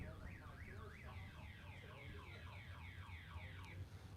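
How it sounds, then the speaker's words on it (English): A wailing electronic siren with a rapidly sweeping up-and-down tone pattern, heard faintly in the distance at a drag racing event, repeating its cycles over several seconds beneath low background rumble. "I apologize for that siren in the background."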